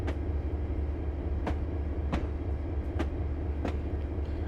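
A train runs steadily along the track in the Train Sim Classic video game on the Feather River Canyon line in California, with a constant low rumble and sharp periodic clicks from the wheels over rail joints.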